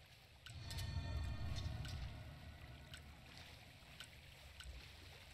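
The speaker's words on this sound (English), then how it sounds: "enjoy the sound of water splashing onto me" Water splashes onto a character in the game Frozen Flames, a soft, continuous watery rush that swells early and then settles into a low, steady wash with faint trickles.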